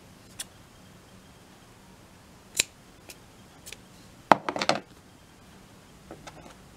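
Scissors snipping the end of crochet yarn, a few faint quiet clicks followed by a brief cluster of close snips, with no talk over it.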